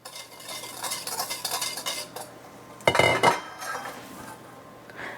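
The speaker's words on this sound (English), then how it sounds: "So we just want to whisk that together." A whisk scrapes and clinks rhythmically against a bowl while sugar mixture for gluten-free lemon curd is whisked, then a louder clatter of utensil on the bowl, with no voices.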